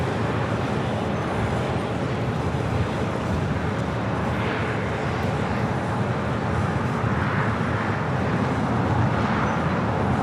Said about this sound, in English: Flight coming in from Seattle, A321, now heading